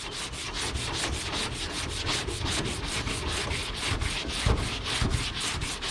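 Primer on a 1977 International Scout is block-sanded by hand, a close, even rasping stroke repeating about five times a second without a break.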